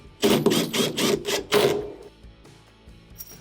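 A bolt is threaded and tightened on an LG washer during a repair, giving a quick run of about six sharp, close metallic ratcheting clicks followed by a few faint taps.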